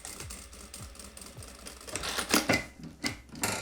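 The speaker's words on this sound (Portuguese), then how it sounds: "vou passar uma costura aqui pra prender e garantir que vai ficar no lugar" A sewing machine stitches two fabric straps together, bursts of rapid mechanical clatter with rhythmic thumps, fairly quiet and close, with no talking.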